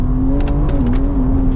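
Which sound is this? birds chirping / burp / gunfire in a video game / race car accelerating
race car accelerating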